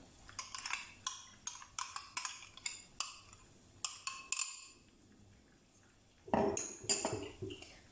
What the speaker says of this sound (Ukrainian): В миску вбиваємо 3 яйця і збиваємо до однорідності.